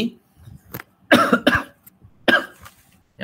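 Several loud, close coughs in a short burst, a throat-clearing fit with brief pauses between hacks, heard alone without talk.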